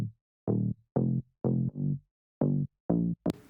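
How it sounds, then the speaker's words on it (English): A synthesized mid bass line plays alone, a run of short punchy notes with a warm mid-low tone and brief gaps between them. "Then I have a mid bass layer to fill the mid-low frequencies."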